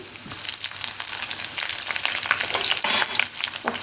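Slit green chilies sizzle in hot oil with browned garlic for an anchovy thokku, a close, crackling fry with stirring scrapes that swells toward the end, without any speech.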